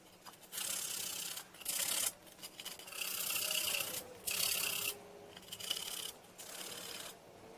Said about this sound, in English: start cleaning the gasket surface upside down so nothing falls inside of the gear case